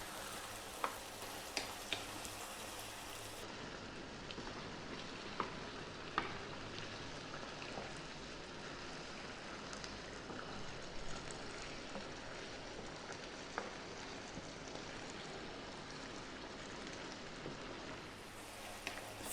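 Ground beef pasta sauce sizzles and bubbles steadily in a pan while a spoon stirs it almost constantly, adding scattered clicks and scrapes over the continuous frying hiss.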